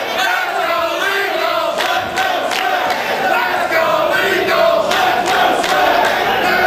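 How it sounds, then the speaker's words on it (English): A divided crowd at a live CCW pro wrestling show in East Haven, Connecticut, chants and cheers loudly and steadily throughout, with rhythmic shouted chants rising above a constant roar. "The crowd is split here in East Haven, Connecticut."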